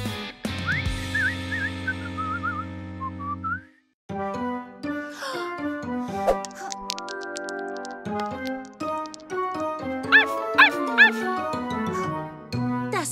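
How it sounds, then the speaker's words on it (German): A cartoon dog barking amid bright animated music, with several short yips and bow-wow sounds mixed into the score and a whistling melody, clear and close. "Das war definitiv Hundebellen."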